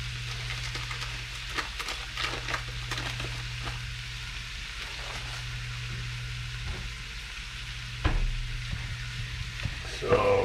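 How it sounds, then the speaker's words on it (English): Butter and a broken-up mixture sizzle steadily in a pan while being stirred, a continuous close frying hiss with scattered scraping knocks and a louder clatter near the end; no one talks. "So keep breaking this up and stirring it up"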